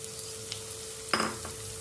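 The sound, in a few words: chopped onions sautéing in a hot pan with ginger and garlic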